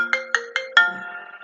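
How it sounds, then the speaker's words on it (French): A mobile phone ringtone plays four bright melodic notes, the last one held and ringing out, fairly loud and close, with no talk over it. "Excusez-moi, je vais couper mon téléphone."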